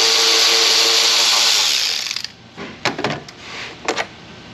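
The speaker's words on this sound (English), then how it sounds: "we've got one 10mm fastener kind of hanging on to that cover. So here, let's unbolt this fastener here." A power tool running steadily and loudly as it unbolts a 10mm fastener on the ECM cover of a Mazda RX-8, then winding down into a few short bursts and clicks of the nut coming loose, close up with no talking.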